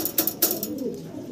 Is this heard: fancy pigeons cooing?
yes